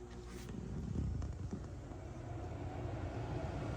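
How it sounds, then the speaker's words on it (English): A low, steady rumbling drone of the air conditioner in a 2024 Pleasure-Way Plateau XLTS camper van, faint and continuous with a soft whooshing airflow and no voices. "That's the sound of the air conditioner."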